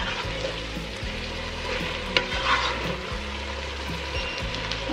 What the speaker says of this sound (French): En attendant que les légumes finissent de cuire.